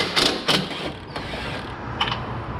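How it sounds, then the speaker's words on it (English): A subframe nut being loosened with a ratchet on an ND Mazda MX-5 Miata, a few quick metallic clicking bursts with a faint creak, close and moderately loud, no talking. "I'm still leaving this nut attached. I'm just loosening the threads a little bit."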